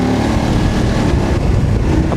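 A TVS motorcycle engine drones loud and close while riding, a steady rumbling roar mixed with heavy wind buffeting that stays constant throughout.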